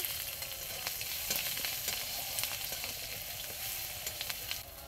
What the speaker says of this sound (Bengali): তেজপাতা দিয়ে দেব, পেঁয়াজ কুচি লঙ্কা কুচি দিয়ে দেবো